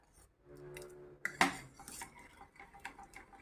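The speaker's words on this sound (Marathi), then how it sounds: "डाळ छान घोटून घ्यायची, एकजीव करून घ्यायची आहे" Cooked dal being mashed in a metal pot with a utensil gives a quiet scrape, then a quick cluster of bright metallic clinks in the middle and softer taps after.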